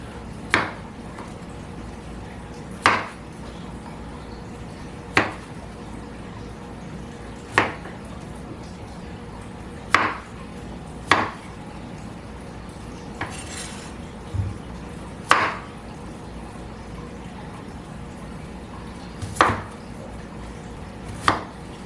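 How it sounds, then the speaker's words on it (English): A knife roughly chopping vegetables on a board for a roast pork dinner, about ten sharp, evenly spaced thuds several seconds apart over a quiet kitchen background with faint clinks of pans. "Give it a rough chop. Roughly about the same size as our onions."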